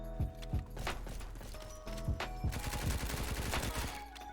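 MP5 submachine gun hip-firing in Roblox Bad Business, with a few single shots followed by a rapid sustained burst of automatic gunfire and mechanical clicks, loud and close.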